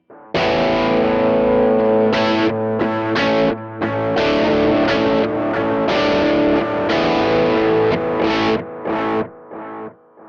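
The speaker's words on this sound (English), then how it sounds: "it's a really gritty, lo-fi, broken, shitty delay sound" A 25-year-old guitar modeller sets a gritty, lo-fi, broken delay on distorted guitar, with loud, dense chords and riffs repeating and smearing for about ten seconds, with no voices.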